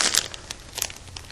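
Newspaper and plastic wrap crinkle and rustle as they are arranged in a cross shape to wrap a bundle, with a burst of crisp crackles at the start and sporadic softer crunches after, close and without talk.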